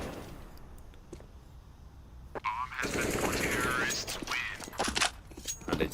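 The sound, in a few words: pistol gunfire in a competitive shooter video game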